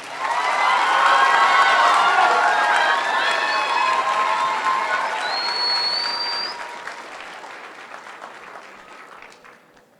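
A ceremony audience at an eighth grade promotion gives a round of applause, dense, steady clapping mixed with some cheering and shouts that holds for several seconds, then gradually fades away.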